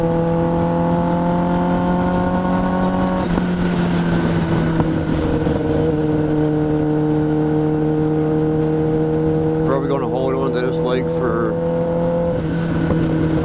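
Kawasaki ZX10R sport motorcycle engine holding a steady high-pitched droning tone that shifts briefly near the middle, with a burst of rougher revving toward the end, loud and continuous throughout.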